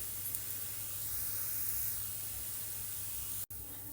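Paneer and bottle gourd fry in a little oil, making a constant hissing sizzle up close. It cuts out abruptly for an instant near the end.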